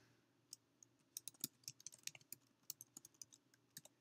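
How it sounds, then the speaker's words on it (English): Quiet, irregular clicking of keys on a computer keyboard, bursts of quick taps with brief pauses, close by, no voices. "I'm typing."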